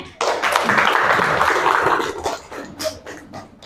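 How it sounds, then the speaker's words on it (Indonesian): Applause from a school classroom audience during a guidance and counselling lesson, a dense burst of clapping that starts abruptly, holds steady, then thins into scattered claps near the end. "Berikan tepuk tangannya."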